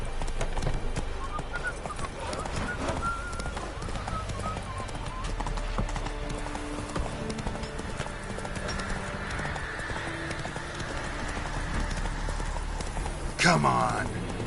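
Roach, a horse in The Witcher 3: Wild Hunt, gallops with a steady drumming clip-clop of hooves under game music and a voice, carrying on throughout, with a brief sharper whinny-like burst near the end.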